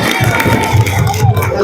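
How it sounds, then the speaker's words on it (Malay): An audience at an Islamic religious lecture celebrating Maulid Nabi Muhammad SAW claps loudly, with some cheering and voices mixed into the steady, close applause. "Tepuk tangan."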